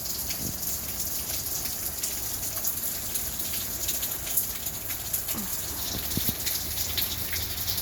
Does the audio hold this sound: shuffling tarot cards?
no